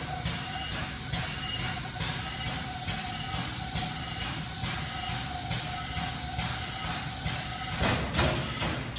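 Steady loud hiss of spray pumps in an ultrasonic parts cleaner over a low mechanical rumble and a high whine, continuous throughout, with a brief change near the end.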